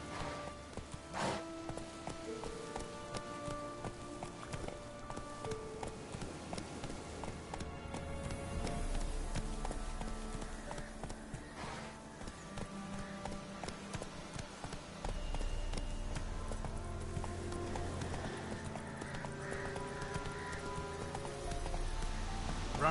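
Horse galloping in the video game The Witcher 3, a steady rhythmic clip-clop of hooves running continuously under game music and ambience, moderately loud with no talk.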